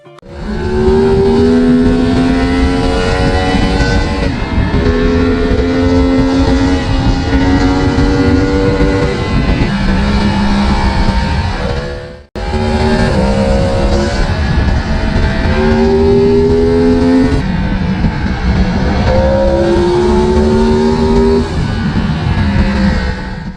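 A Yamaha MT-10 motorcycle with a crossplane-crankshaft engine and titanium exhaust, a loud, continuous, rough engine note that rises and falls in pitch through revs, broken by one brief cut midway.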